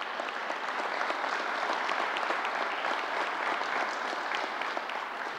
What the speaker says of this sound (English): Let's give the County Executive a round of applause.